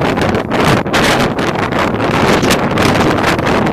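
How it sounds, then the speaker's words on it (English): Loud, constant wind buffeting the microphone in gusts in the Santa Monica Mountains, a roaring rush with no other clear sounds. "It's pretty windy out,"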